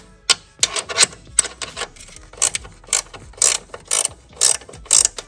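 A ratchet loosens a 1/2 inch bolt on a Ford Mustang II door: a close, rapid clicking in about a dozen short, uneven bursts separated by brief pauses, with no talking.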